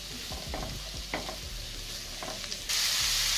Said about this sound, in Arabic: بعد ما شوحت المشروم كده مع البصل